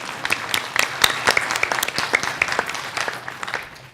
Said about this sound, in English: we started clapping all the time